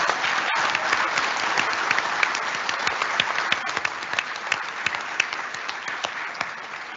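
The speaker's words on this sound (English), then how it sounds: "Can we get one round of applause for everybody up here today?" A university town hall audience gives a round of applause for the panel after a Q&A, sustained hand clapping with distinct individual claps standing out, gradually thinning and softening toward the end.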